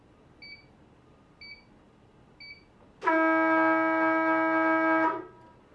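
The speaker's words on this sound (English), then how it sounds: "in the last few seconds the box will beep to highlight that the race is about to start" A sailing race start box gives three short, evenly spaced beeps, then a long, loud steady tone lasting about two seconds before cutting off into quiet.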